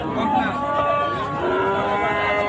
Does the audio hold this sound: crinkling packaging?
no